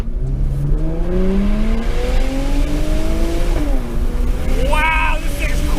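A 2021 Nissan Z sports car with a turbocharged all-aluminum 3-liter VR30 V6 accelerating hard, engine note climbing loud and close through the gears with a brief shift dip, a short tire squeal near the end, and a voice heard over it.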